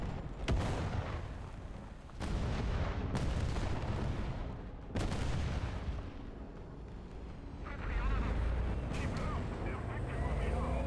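Heavy booming tank cannon blasts in War Thunder ring out several times, each followed by a rumbling decay, over a continuous low engine-like drone.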